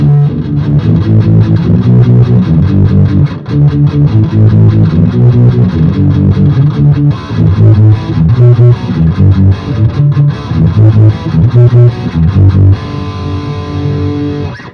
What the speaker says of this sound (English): distortion is passing through just fine, has no problem relaying that effect